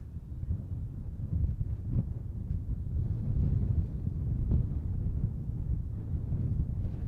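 Wind blows at an outdoor planespotting spot, buffeting the microphone in a constant low, rumbling roar with gusty swells and no speech.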